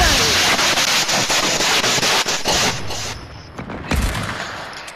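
Rapid bursts of gunfire in the Fortnite video game, loud and dense with many sharp cracks for the first half, then thinning to sparser, quieter shots with a faint voice underneath.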